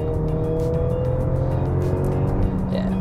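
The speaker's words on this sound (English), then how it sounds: "This 2-litre 4-cylinder turbo is super smooth, very powerful, and in sport mode, it even sounds decent as well." Turbocharged 2-litre four-cylinder engine of a 2023 Mercedes-Benz GLC300 in sport mode, a steady, loud hum with rising tonal drone as it accelerates, continuous throughout with no speech.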